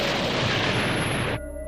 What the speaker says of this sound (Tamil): இன்னும் சில கிரகங்கள் வெடிச்சிருது.